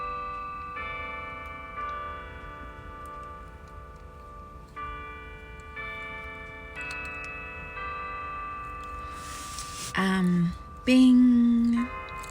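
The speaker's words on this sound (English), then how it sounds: "I've always loved church bells." Church bells in Balboa Park, San Diego, chiming at nine o'clock in repeated ringing strikes that sustain and overlap, followed by louder brief sounds near the end.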